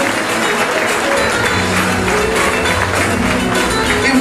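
Steady, dense applause from a crowd fills the whole moment at a cheese festival in Ecilda Paullier, sustained and evenly loud, with a voice faintly audible underneath.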